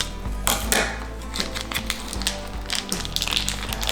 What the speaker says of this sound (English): to prepare the meat, I'm gonna cut it out of the bag